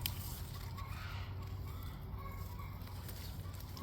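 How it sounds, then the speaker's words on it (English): Chickens clucking and squawking in a backyard garden, a steady busy flock chatter close by, with no talk over it. "The chickens are squawking."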